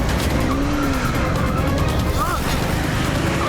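A cartoon car skids with a squealing screech after a crash, the tire noise rising and falling over dense engine rumble and sound effects, while a cartoon voice talks over it.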